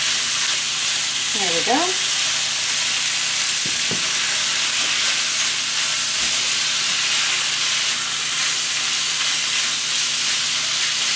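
Chicken frying in a pan gives a loud, steady sizzle and hiss with occasional scrapes of stirring. A voice speaks briefly early on.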